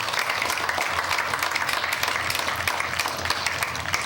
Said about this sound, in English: So now we can applaud for all those great people